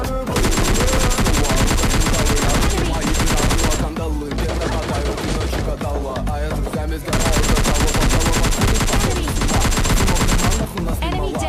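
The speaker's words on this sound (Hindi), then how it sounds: "अब इधर से फायरिंग की आवाज़ आ रही थी" Rapid gunfire rings out during a battle royale video game match, with dense automatic bursts and shots that continue loudly for most of the stretch, broken by a short lull near the middle.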